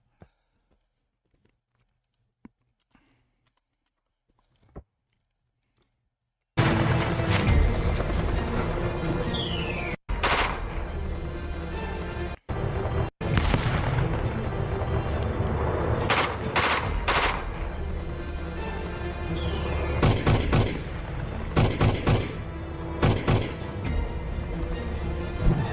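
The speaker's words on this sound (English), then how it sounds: "Printed AR-15, which we've been shooting in this video." Rapid, loud bursts of gunfire from a 3D-printed AR-15 rifle ring out one after another, starting after several seconds of near silence and continuing as dense, repeated shots with echoing tails.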